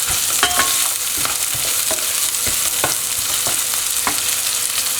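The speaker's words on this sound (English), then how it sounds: "And let that saute for a while." A medium onion sautés in a pan over heat that is being turned down slightly, a steady broadband sizzle with scattered scrapes and clicks of stirring running throughout.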